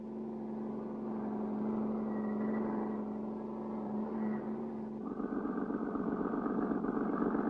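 A cartoon getaway car's engine hums steadily as it drives off during a 1959 animated chase in Africa, then shifts to a rougher, higher-pitched revving drone midway through, with no talking.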